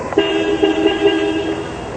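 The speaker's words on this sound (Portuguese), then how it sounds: "E atenção para a buzina." A remote-controlled toy car's horn blares in one sustained, buzzy electronic tone lasting well over a second, loud and close, with a couple of slight pulses.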